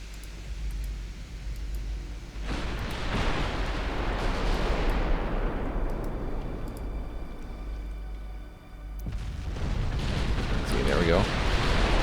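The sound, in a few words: naval gunfire and shells hitting ships in Ultimate Admiral Dreadnoughts video game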